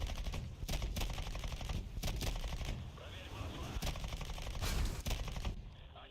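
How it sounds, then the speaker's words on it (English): Tank cannons fire in the War Thunder video game during the Sword of Justice event from a Mark 6, producing a series of loud, sharp booming shots spaced irregularly over a continuous rumbling battle background. "This thing's cannons does kick, though, I have to say."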